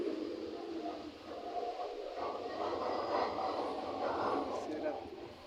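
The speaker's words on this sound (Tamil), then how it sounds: "இந்த ட்ராக்கில் ஒரு ட்ரெயின் போய்கிட்டு" A train rumbles along the track in France with a steady, broad roar and clattering, continuous throughout, while a voice talks over it.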